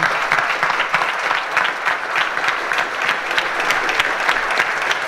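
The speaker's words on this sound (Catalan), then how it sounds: "Aplaudiments." An audience at a political gathering in Catalonia applauds, a loud and sustained burst of crowd clapping with dense rapid hand strikes that stays even for several seconds.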